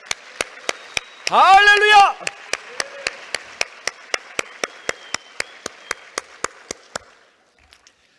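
Congregation clapping together in church, a crisp, steady beat of sharp claps keeping time for several seconds while a voice shouts out once early on, the rhythm fading out near the end.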